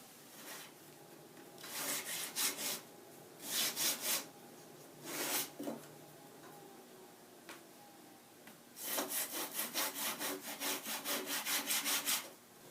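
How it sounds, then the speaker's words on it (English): Strips of guitar back-wood offcut being sawn: several bursts of rhythmic back-and-forth rasping strokes separated by pauses, close and fairly loud. "I just cut some strips from the offcut of the back"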